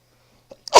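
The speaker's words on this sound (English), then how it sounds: "I'm going to sneeze again." A single loud sneeze bursts out close to a headset microphone after a couple of faint breaths, ending the short clip with a sharp, breathy blast.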